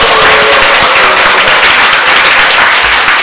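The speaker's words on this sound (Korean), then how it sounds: "이번 시간을 통하여 그 형제들을 위하여 박수 한번 칩시다." Loud, dense applause from a large church congregation during a Korean sermon, steady and continuous throughout with no pauses.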